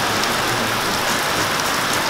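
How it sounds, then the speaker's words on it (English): Rain falling outside, a dense, steady hiss of drops pattering on surfaces, loud and close throughout with no voices. "I love rainy days"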